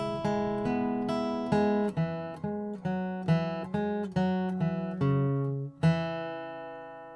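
Acoustic guitar plays the third phrase of a tune slowly and cleanly: a string of roughly a dozen single plucked notes with ringing sustain, evenly spaced and alone.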